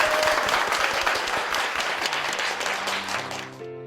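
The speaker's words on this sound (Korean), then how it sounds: "앞으로도 주님의 은혜로 승리하실 수 있도록 축복의 박수 부탁드리겠습니다." A church congregation clapping in unison with full, dense applause that carries on steadily before tapering off and fading into music at the end.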